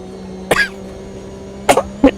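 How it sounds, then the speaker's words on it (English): A man coughs three times over a low steady engine hum from a racing game, one sharp cough followed by a pause, then two quick close coughs near the end. "I've done well not coughing."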